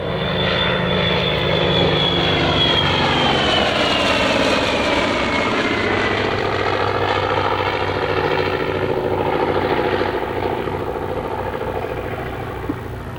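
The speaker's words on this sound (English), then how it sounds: "Listen to the distinct sound of that right engine in the AD-4 Skyraider." A Douglas AD-4 Skyraider with its big radial piston engine makes a low flyby pass at a 2003 World War II Weekend air show, a loud continuous propeller roar that swells and shifts pitch as it passes close by, with no talk.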